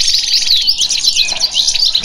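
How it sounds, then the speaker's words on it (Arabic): A Constantine goldfinch, a chardonneret, sings a loud, close, continuous stream of rapid high chirps and twittering trills. "هذا هو طائر الحسون القسنطيني الاصيل"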